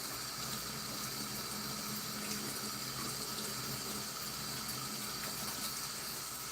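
Tap water runs steadily into a sink while a kitten is rinsed, a continuous close splashing hiss with no pauses.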